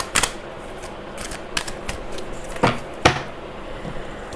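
Tarot cards shuffled and drawn by hand, giving a few sharp close riffles and snaps at irregular moments over a quiet room hiss, with no voice.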